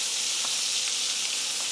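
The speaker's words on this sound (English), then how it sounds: "Now that spice on that other side frying, that's going to be some good flavor." Pork chops frying in a pan with a spice rub, a steady close sizzle and hiss with faint occasional pops, no voices.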